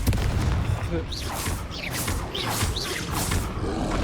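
Confringo blasting spell explosions in the video game Hogwarts Legacy, a series of booming blasts with whooshing streaks, repeated several times over a few seconds with a voice speaking in between.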